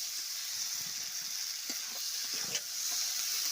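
Potato and pointed gourd pieces fry in a pan for a chicken curry, giving a soft, steady hiss with scattered light scrapes of stirring, fairly faint and with no voices.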